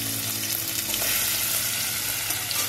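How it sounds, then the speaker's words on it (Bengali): Chopped garlic, added after ginger, sizzles in hot oil in a pan for chilli paneer, a dense close hiss and crackle with light stirring throughout and no talking. "দিয়ে দিলাম রসুন কুচি"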